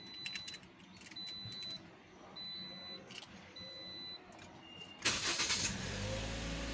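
A Toyota Altis 1.6 V, fitted with new ignition coils and spark plugs, cranks with a short whine and then catches and settles into a steady idle after several faint beeps and clicks.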